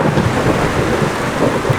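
Thunder rumbles low and heavy beneath a dense, steady wash of falling rain from a rain cloud, loud and continuous without pause.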